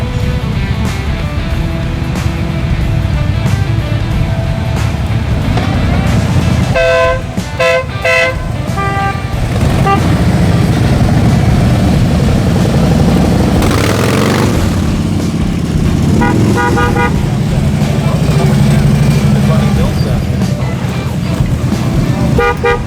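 Group of motorcycles riding from a hotel into a motorcycle parking lot, a dense continuous roar of engines with repeated horn toots and occasional voices, loud and close throughout.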